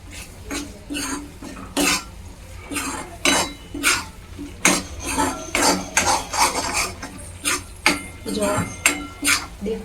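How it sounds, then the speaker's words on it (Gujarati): A spoon stirring chickpea curry with Kashmiri red chili in a metal pot: repeated close clinks and scrapes in an irregular rhythm, loud against a low background hum, without talk. "હવે બધું છે એ સરસ મજાનું હલાવી અને મિક્સ કરી લેવું"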